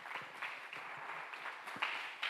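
A church congregation claps in a steady, dense patter of applause at a Sunday service, fairly faint and continuing without a break.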